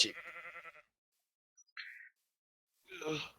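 Short sheep bleat in a video game sounds in a quiet gap between bits of nearby talk, faint and brief.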